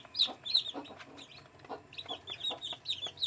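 One-day-old native chicks on a poultry farm peep in quick, repeated high chirps, close and lively, with soft low clucking-like murmurs beneath.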